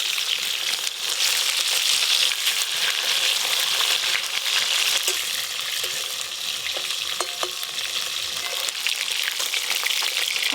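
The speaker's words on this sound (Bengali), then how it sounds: "মাছগুলো ভালো করে ভেজে নিয়েছি।" Fresh pond fish fry in a hot pan, giving a loud, steady, continuous sizzle with stirring and scraping throughout and no voices.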